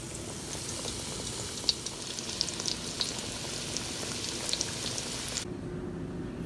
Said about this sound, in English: And then we're going to fry it.